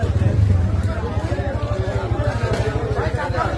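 Crowd noise at a busy market during Ramadan: a dense babble of many voices mixed with a steady engine rumble, loud and close throughout.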